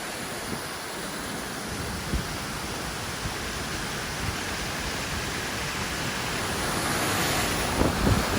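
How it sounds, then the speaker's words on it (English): Steady rushing water roar from a waterfall shooting straight out of a cliff in Geltenbach Canyon, constant and broadband, close by, with faint gusts and a few soft knocks. "The waterfall that just comes straight out of the cliff"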